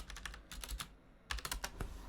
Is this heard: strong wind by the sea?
no